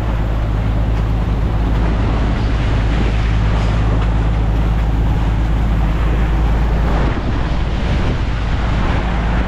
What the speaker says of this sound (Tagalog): Ang ganda ng dagat dito guys.